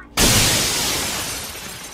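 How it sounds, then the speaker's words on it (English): Glass smashed with an axe in a horror game: a single loud, close crash that bursts into a bright, long-ringing shatter fading slowly over a couple of seconds. "Break that glass, boy."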